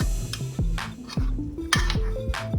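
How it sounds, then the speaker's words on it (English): A spoon stirring seafood Alfredo with broccoli in a pan, with repeated clinking and scraping strikes of utensil against metal in a quick irregular rhythm over a soft sizzle, close and clear, with no talking. "Just mix, let's give it a good mix."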